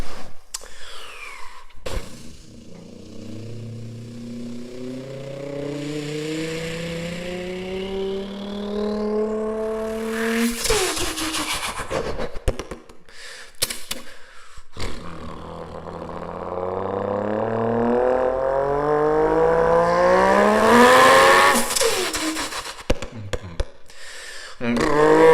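A voice imitating the worst-sounding car engine, making rising, strained revving noises in two long bursts separated by short breaks and clicks, loud and close to the mic.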